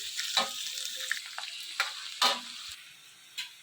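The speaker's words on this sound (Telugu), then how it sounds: "ఈ విధంగా కలుపుకుంటూ మొత్తం ఇవన్నీ బాగా ఫ్రై చేసుకోవాలి." Ingredients for hotel-style egg fried rice being stir-fried in a pan: a continuous sizzle broken by several sharp scraping stirs, close and moderately loud with no voices.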